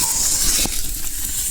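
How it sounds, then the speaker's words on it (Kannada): Fish frying on a tawa while being pressed down, a loud close sizzle and hiss that holds steady, with a short scraping burst midway. "ಯಾವತ್ತು ಫಿಶ್ ಫ್ರೈ ಮಾಡ್ಬೇಕಾದ್ರೆ ಈ ಥರ ಪ್ರೆಸ್ ಮಾಡ್ಬೇಕು."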